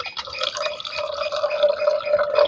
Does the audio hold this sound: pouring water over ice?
yes